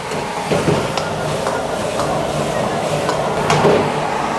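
Pork liver stir-fried with black pepper sauce in a pan over high heat: a constant sizzle under repeated scraping and clattering spatula strokes, fairly close and loud.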